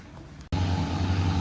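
Steady low engine drone with a strong hum, briefly cutting out then returning louder and constant, like boat engines running nearby at Railay Beach, Krabi, Thailand, in the morning.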